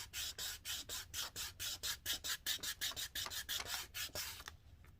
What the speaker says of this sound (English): And I just sand it down.